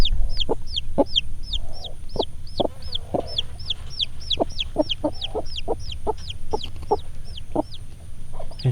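A Gold Comet hen sitting on eggs clucks in short, sharp, repeated bursts, loud and close, keeping up a steady broody rhythm with no voices.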